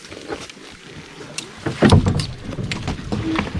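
A canoe being paddled through a flooded forest on a spring lake, with close splashing strokes, water sloshing against the hull and a scraping knock partway through, irregular and fairly loud, with no speech.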